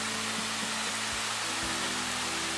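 The waterfall at Holywell Dene gives a steady broadband rush of falling water, continuous and even throughout, with a faint low hum underneath.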